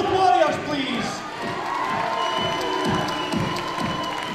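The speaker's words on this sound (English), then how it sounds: "a massive round of applause for both warriors, please" A combat-sports event crowd cheers and applauds at length, a dense, steady roar of many voices and hands that swells slightly at the start and holds throughout.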